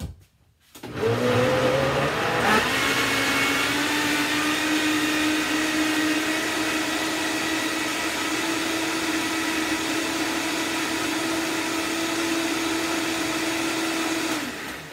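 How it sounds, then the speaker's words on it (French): A blender runs continuously, grinding kimchi ingredients into a paste. Its loud, steady motor whine starts after a brief pause and holds for about fourteen seconds before cutting off. "on va aller mixer le tout pour obtenir une pâte"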